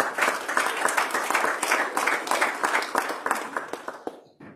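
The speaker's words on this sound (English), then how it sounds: "Give him a hand clap of praise." A church congregation claps in praise, a fairly soft, pulsing roll of many hands with a loose rhythm, then stops abruptly at the end.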